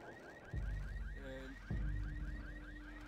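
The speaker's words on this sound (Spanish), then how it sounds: "Sí, de la alarma del carro." Car alarm in the video game Left 4 Dead wailing in a fast, repeating rising-and-falling pattern, steady and moderately distant, with two heavy low thumps and a brief tonal sound cutting in partway through.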